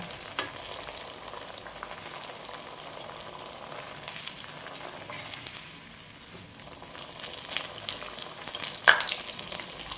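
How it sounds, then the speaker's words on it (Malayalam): Small batches of snacks sizzle and crackle steadily in hot oil in a small wok, with scattered pops and a sharper burst near the end; no talking. "ഞാൻ ഓരോന്നോരോന്നായിട്ട് ഇട്ടാണ് വറുക്കുന്നത്"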